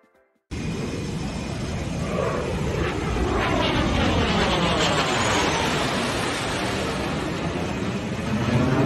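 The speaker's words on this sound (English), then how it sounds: "This fighter jet pulls up to avoid a helicopter." A fighter jet pulling up to avoid a helicopter roars in abruptly after a brief quiet start, its loud jet engine noise sweeping with a rising and falling tone and filling the rest of the stretch.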